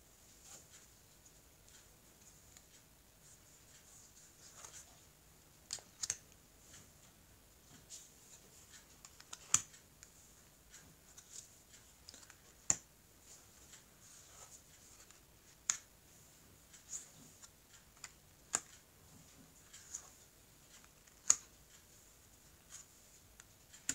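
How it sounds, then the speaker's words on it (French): A tarot deck is cut and the cards are covered on a table, with sparse, crisp taps and flicks of card on card spaced irregularly over a near-silent background. "je vais couper le jeu et je vais donc recouvrir les cartes"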